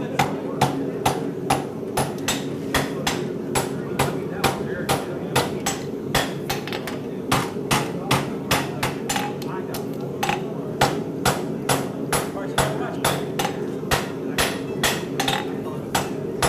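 A farrier hammers metal on an anvil at a horseshoeing clinic, sharp ringing blows in a rapid, fairly regular rhythm, loud and close, with someone speaking over the strikes.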